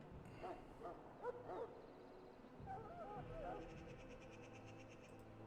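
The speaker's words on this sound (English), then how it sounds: "His owner died in the last battle, and the poor hound swallowed darkspawn blood" A Mabari war hound in the video game Dragon Age: Origins, sick after swallowing darkspawn blood, gives a few soft whimpers and yips amid low game ambience and muffled voices.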